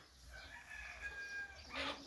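A gray Ataks chicken gives a drawn-out crowing call followed by a short squawk, fairly close and alone.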